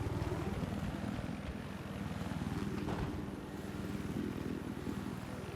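Helicopter rotor and engine from Battlefield 4 gameplay during an 8v8 Conquest match, a steady loud pulsing drone with fine rotor chop, sustained throughout.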